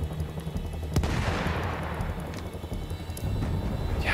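Rapid gunfire from the video game Battlefield 1 during a fort assault, with dense bursts of automatic shots and sharp single cracks over a continuous rumbling battle din.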